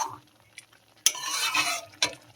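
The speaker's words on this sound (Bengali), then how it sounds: "পেঁপেটা ভালো করে একটু নেড়ে নেবো, কাঁচা গন্ধটা যাতে না থাকে।" Ripe papaya being stirred in a pan for payesh, with a few soft scraping strokes and a brief clatter. The strokes come in short bursts with quiet gaps between them.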